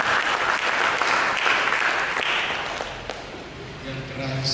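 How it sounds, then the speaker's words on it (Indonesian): Congregational applause during a church sermon, a dense burst of clapping that gradually fades over a few seconds while a voice begins to speak over the tail. "Mari kita berikan tepuk tangan."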